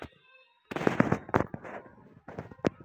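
A flashbang grenade detonates in a police video game: a sharp, loud blast followed by a few more booming bursts over about two seconds, with no talking.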